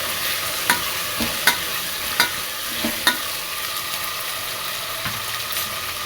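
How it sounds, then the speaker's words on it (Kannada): Potatoes frying in a little oil for sambar, a steady close sizzle running throughout with several sharp scraping stirs of a spoon against the pan at regular intervals. "ಆಲೂಗಡ್ಡೆನೇ ಒಂದು ಸ್ವಲ್ಪ ಎಣ್ಣೆಯಲ್ಲಿ ಒಂದು 5 ನಿಮಿಷ ಫ್ರೈ ಮಾಡ್ಕೊಬೇಕು."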